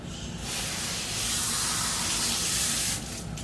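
Steady spray of running water rinsing shampoo from a dog during grooming, a continuous loud hiss that swells slightly in the middle and eases near the end, close and without talk.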